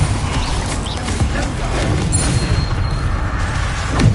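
Spell effects cast during combat in Hogwarts Legacy, forming a loud, dense wash of booming magical blasts and crashes with no pauses, ending in a slightly sharper burst.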